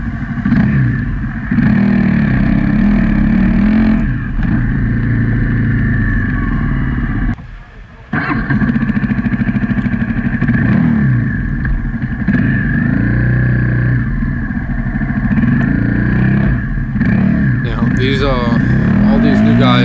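Several Honda CRF250L dirt bike motorcycles, including 2019 models on stock tires, ride and rev close by in a loud, steady engine drone with rising and falling throttle, briefly dropping off once before resuming, while riders talk over it.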